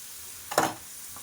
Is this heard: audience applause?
no